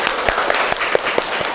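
Classroom applause for a student who answered correctly, a short burst of scattered hand claps with distinct individual slaps over a faint murmur.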